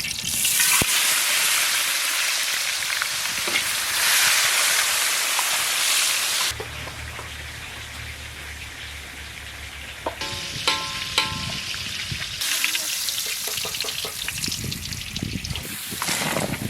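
Paneer frying in hot oil in a wok, with bay leaf added: a steady loud sizzle for the first six seconds, then quieter crackling and stirring clinks, and the sizzle rising again near the end.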